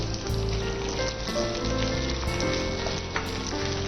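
Curry leaves and coconut pieces frying in hot oil for a mutton masala, a loud, dense, continuous crackle and sizzle close up, with occasional stirring scrapes.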